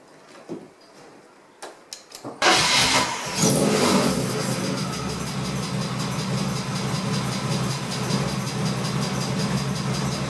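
A BMW E30 "330i" engine, fitted with a replaced pressure regulator, catches after a few faint knocks and then runs loud and close, a steady rough drone with slight rises in revs.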